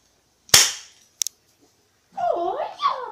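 A toy cap gun pops once loudly up close, followed by a quick double snap, then a short burst of voice-like vocal sound in a homemade trailer scene.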